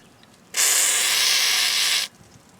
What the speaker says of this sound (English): get some more WD-40 and spray it on this bolt here